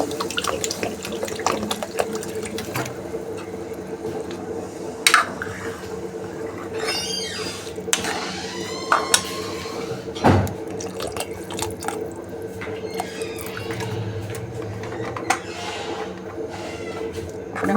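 Water is poured into a pea and elephant-foot yam curry to make gravy, producing a steady close splashing trickle that runs throughout, with a few brief clinks of utensils along the way.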